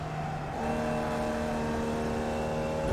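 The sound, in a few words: race car upshifting to fourth gear and coasting into a corner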